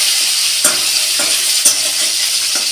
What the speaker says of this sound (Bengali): চলো মাছটা উল্টিয়ে নিই একটু